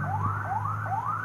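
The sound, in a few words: ambulance siren passing by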